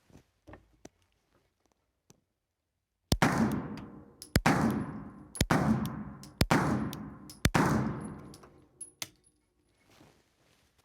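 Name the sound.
Rock Island STK100 9mm pistol firing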